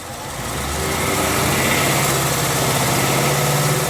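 A 2019 Ford Mustang GT engine revs up from idle toward 2,000 rpm and holds there, a loud, close, steady low engine drone that swells in the first second and then stays even, with no talk.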